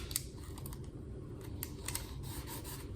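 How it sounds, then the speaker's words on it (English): Tape is pulled and pressed onto a rolled paper cone for a pigeon mask, making a few sharp crackling rips and rubbing sounds close by, with no talking. "Now I'm gonna tape here"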